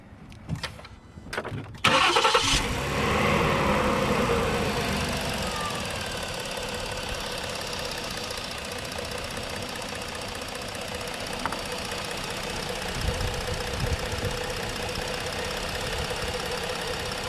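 A Ford 3.5 engine with a misfire cranks briefly after a few clicks, then catches and runs at a loud, steady idle with an uneven, slightly rough note close by, no talk over it.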